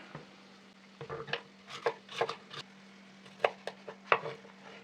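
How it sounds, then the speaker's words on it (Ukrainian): A knife chops pepper on a cutting board while a seasoning blend is prepared, giving irregular close, crisp taps in small bursts over a faint steady hum, with no voices. "Нарізаємо перець."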